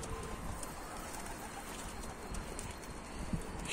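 Tumbler pigeons of Turkish flying breeds coo softly and indistinctly against a steady, faint outdoor hiss, with no voices.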